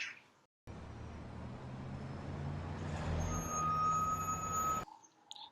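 Steady low rumble of road traffic from the film Forrest Gump, a heavy vehicle idling and passing nearby, with a high electronic tone joining later; no talking.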